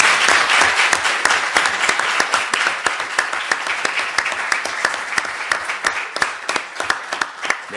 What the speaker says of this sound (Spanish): Pues nada, un aplauso, ¿no?